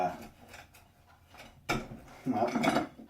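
Butter knife scraping and clinking against frozen banana pieces in a dish, soft metallic taps followed by louder crunching scrapes, close up.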